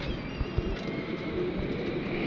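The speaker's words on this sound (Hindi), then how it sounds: "ये देखें बड़ी तादाद होगी ये जंगली कबूतरों की" Wild pigeons coo softly in the distance, a low gurgling murmur over a steady outdoor background hum, with no talking.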